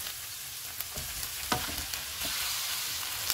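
Chicken sizzles in a hot pan with fried onions and ginger-garlic paste, stirred with a few scraping clatters of a spoon against the pot over a constant loud frying hiss.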